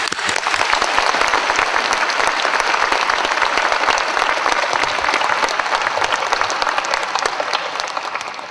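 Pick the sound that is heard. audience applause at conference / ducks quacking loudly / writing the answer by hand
audience applause at conference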